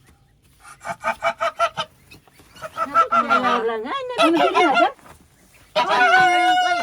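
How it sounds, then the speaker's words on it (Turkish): A goose honks loudly up close in a quick series of short calls followed by longer harsh cries, with a person speaking Turkish briefly in between. "Şimdi bu kaz bizi attı şimdi."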